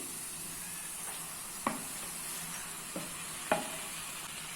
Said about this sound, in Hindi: अभी हम लोग इसमें चिकन ऐड कर देते हैं